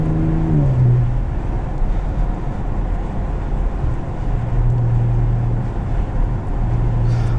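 A 2019 Porsche Cayenne S fitted with an Armytrix exhaust is on the move, giving a loud, rough exhaust drone with brief pitch shifts as it changes speed, over road and wind noise heard from inside.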